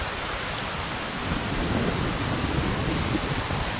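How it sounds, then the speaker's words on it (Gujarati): Steady rain falls with a broad, even hiss, continuous and moderately loud, with no voices, at Gandhara ashram. "મિત્રો વરસાદ ચાલુ થઈ ગયો છે"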